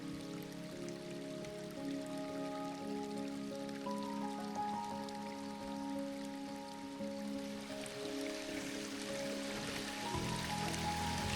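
Soft steady rain falling at an outdoor hot spring site, a faint continuous patter with a low tonal hum beneath and no voices.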